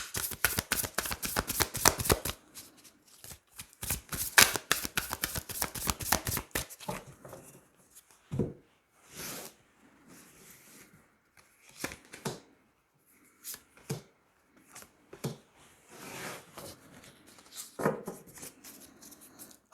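Tarot cards being shuffled, a fast dense riffle of crisp flicks for a few seconds, then slower, scattered card slides and taps, close and fairly soft with no talk.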